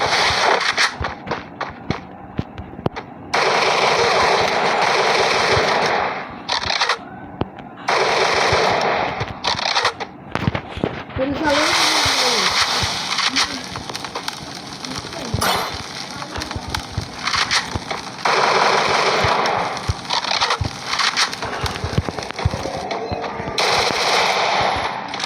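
Rapid video game gunfire rings out in loud automatic bursts separated by brief pauses, with a few single shots between volleys and no talking.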